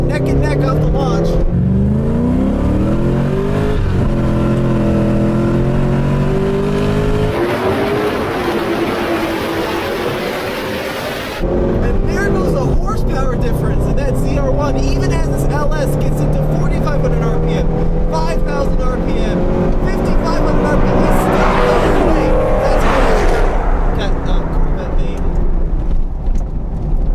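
A Chevy Corvette ZR-1 with an LT5 engine launches down a drag strip, its engine roaring loudly through rising gear pulls with a brief wind-blasted interruption, while people talk excitedly over it.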